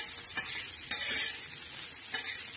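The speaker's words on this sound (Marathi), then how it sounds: "तर आज चटणी छान अशी तळत आहे" Dried fish chutney fries and sizzles in a pan, a steady close hiss broken by a few sharp stirring scrapes, with no voices.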